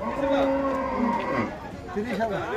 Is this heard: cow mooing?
yes